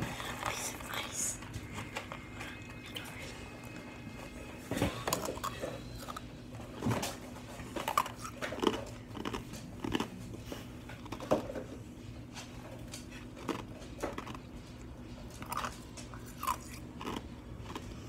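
A piece of ice bitten and crunched up close for ASMR, sharp cracking bites repeating irregularly amid soft chewing, with a little quiet talking at the start.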